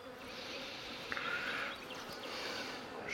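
Honey bees drone steadily around an open hive frame of brood, a dense, close, continuous buzz with a few individual bees briefly rising in pitch as they pass nearby.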